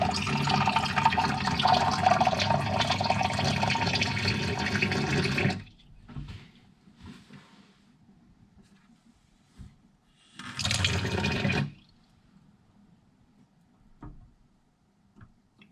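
Water is poured into a Euro tray sprouter in a loud rushing burst lasting several seconds, then stops. A second shorter pour follows, with faint drips and clicks in the quiet gaps.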